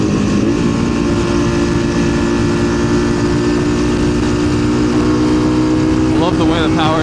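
Ducati Panigale V2 engine under way, a steady, loud, droning hum with a sustained harmonic tone, then a rising pitch near the end as the bike accelerates.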